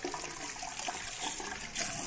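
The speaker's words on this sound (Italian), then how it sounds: "Ci sciacquiamo il viso con acqua calda." Hot tap water running into a sink while a face is rinsed after shaving, a steady close splashing rush with slight surges and no speech.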